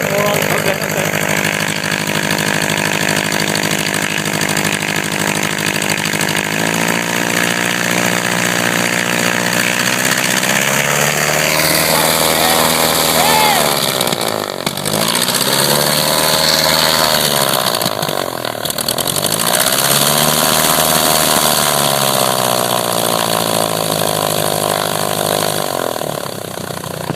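A 1967 Cessna 150 aircraft engine with its idle set wrong runs loud and steady near the microphone, its pitch dipping and swelling twice in the middle before settling again. No one speaks over it.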